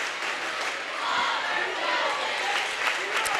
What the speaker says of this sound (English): Crowd's getting into it a little bit.